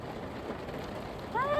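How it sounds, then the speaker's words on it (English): Steady rain falls in an outdoor setting, a soft continuous wash of drops at moderate level throughout, with a brief tonal whistle-like sound near the end. "I do love the sound of rain,"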